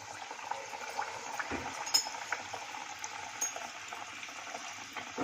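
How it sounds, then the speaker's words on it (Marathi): A red pumpkin gharge puri fries in hot oil over a medium flame, a steady close sizzle and bubbling that runs without pause, with no voices. "यामध्ये आता ही पुरी सोडूया."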